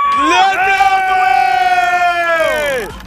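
Ambulance siren sound effect on a television game show, a loud wailing tone that rises, holds steady for a couple of seconds, then sweeps down and cuts off.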